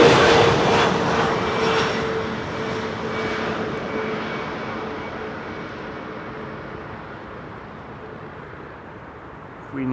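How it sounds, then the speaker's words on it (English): An easyJet Airbus A320neo jet passing by at Amsterdam Schiphol gives a loud, broad engine roar that is strongest at the start and slowly fades as the aircraft moves away. "EasyJet A320neo in the foreground passing by."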